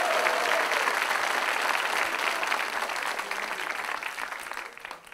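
An audience at a televised quiz game show breaks into sustained applause, a dense wash of clapping that stays loud throughout and then starts to fade at the end.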